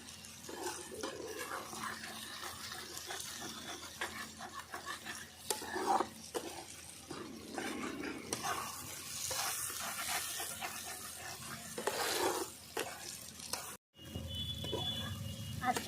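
A spatula scrapes and stirs steadily through eggplant sizzling in fish oil in a pan over a wood fire, with clinking of utensil against metal and a brief cutoff near the end.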